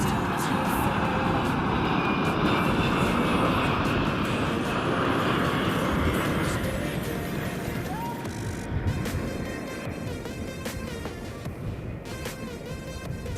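Jet engines of a KC-135 tanker and a C-17 Globemaster at the 2024 London, Ontario airshow roar in a loud, steady broadband wash that slowly eases, with faint music and voices underneath.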